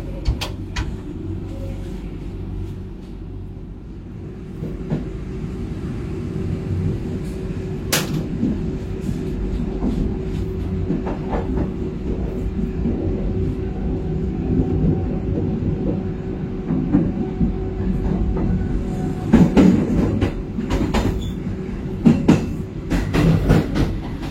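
A Matarmaja New Generation economy passenger train on the Jakarta–Malang line pulls away and rolls along the rails, a steady loud rumble with clicks and clacks building toward the end, heard from inside with no talking.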